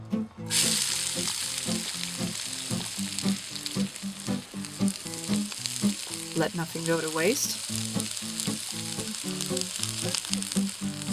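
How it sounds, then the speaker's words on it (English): Steady crackling sizzle of chopped onions frying in hot oil in a cauldron over an open fire, loud and close, with a brief spoken line and rhythmic background tones. "we stir the sizzling onions around until they become soft and translucent."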